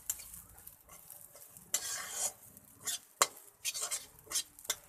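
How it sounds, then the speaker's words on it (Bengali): Rice flour fries in hot oil, with a soft sizzle under repeated bursts of spatula stirring and scraping against the pan, uneven in rhythm and close by. "তো বন্ধুরা দেখো আমার তেলটা গরম হয়ে গেছে, এবার আমি চালের গুঁড়োটা এখানে দিয়ে দিব। এটাকে পুরা ভেজে নিতে হবে।"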